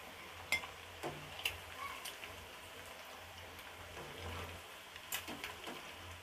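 Fried cashew nuts are lifted out of hot oil, with a soft, steady crackle of frying and a few sharp utensil clicks against the pan, faint and without talk.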